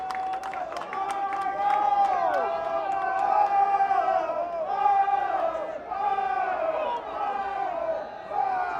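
A stadium crowd at a Barrow versus Oldham rugby league match roars and shouts after a big hit on a player. The noise is loud and sustained, with swelling cheers and whistles rising over a steady crowd din.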